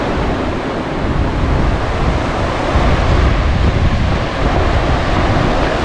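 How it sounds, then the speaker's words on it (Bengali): Sea waves at Mandarmani beach roll in as a steady, loud roar of surf, with wind buffeting the microphone throughout and no voices. "ড্রিম হাট রিসোর্ট থেকে মন্দারমণি সমুদ্র সৈকত দেখুন।"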